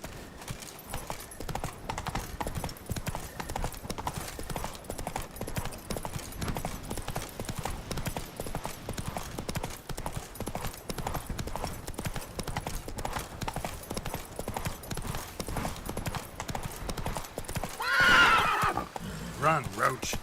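Hooves of Roach, the horse in The Witcher 3: Blood and Wine, clatter in a steady gallop, with a sharp neigh near the end over game music and ambience.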